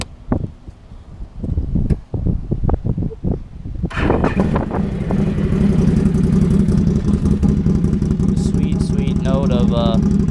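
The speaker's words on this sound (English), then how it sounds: "Sweet note of HMF 1000 exhaust." A 2013 Can-Am 1000 XMR ATV with an HMF aftermarket exhaust fires up after a few clicks and knocks, then revs and settles into a loud, close, sustained engine roar, with wind buffeting the microphone.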